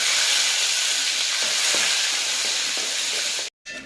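Raisins fry in a hot pan for biryani, giving a loud, dense, unbroken hiss of sizzling oil that cuts out briefly just before the end.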